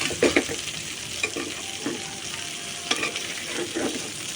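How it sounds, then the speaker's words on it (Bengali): Oil crackles and sizzles steadily as an egg fries in a pan, with occasional scraping and stirring clicks close by and no talking. "একটা ডিম ভাজা নিতেছি"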